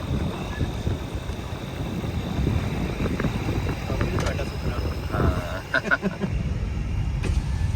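A jeep engine runs steadily on a forest track, a low rumble with wind buffeting throughout and a few brief clanks and rattles near the end.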